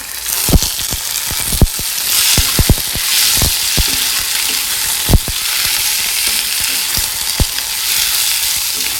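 Yam, potato, carrot, beans and broad beans sauté in oil for a traditional podi curry, giving a loud, close, steady sizzle broken by sharp clacks of a spoon against the pan.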